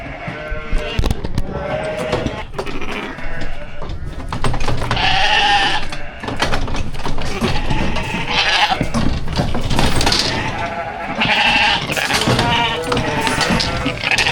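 Big sheep bleating loudly and continuously on a farm during summer work, several overlapping calls close by over a busy, noisy background.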